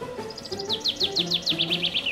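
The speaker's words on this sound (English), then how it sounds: "Great work. It's a bird." A small bird chirps in a quick series of bright, rising tweets, close and steady, over a faint background hum with no talk.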